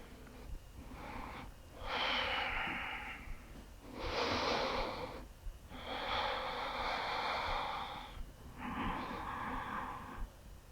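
Slow, deep, audible breaths are taken while holding a yoga pose: about four long, airy inhales and exhales, close and clear, with short pauses between them.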